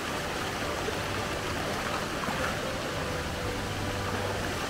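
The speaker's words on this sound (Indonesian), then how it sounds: "Nah, ini curugnya, air curug ini." Waterfall and stream on a jungle trail, a continuous broadband rush of flowing, splashing water, steady and fairly close, with no voices.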